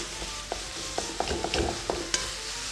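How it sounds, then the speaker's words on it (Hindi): Mutton mince frying on high heat in a pan, a steady close sizzle broken by a series of sharp spatula scrapes and taps as it is stirred, about eight strokes over a few seconds. "इसको तेज आंच पर पकाना है"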